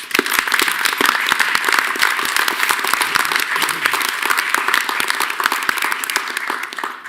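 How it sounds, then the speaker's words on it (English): A room of attendees at a university Board of Regents meeting gives a loud, close round of applause, with crisp individual claps forming a dense, steady patter throughout. "let's give them all a round of applause"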